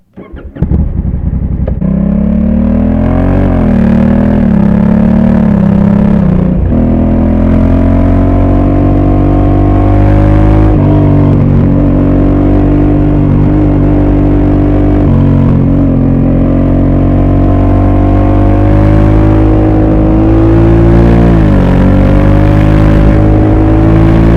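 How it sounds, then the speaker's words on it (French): A 2020 Honda Africa Twin Adventure Sports motorcycle engine revs loudly and close up, a deep rumbling idle rising and falling through several throttle blips with steady low harmonics, heard alone without talk. "On a une très belle sonorité d'origine, encore plus belle que celle de l'ancienne Africa Twin, ça pétarade, ça fait vraiment un très beau bruit"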